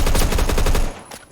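A rapid, loud burst of automatic rifle fire in the Phantom Forces video game, a fast string of close shots that stops abruptly less than a second in.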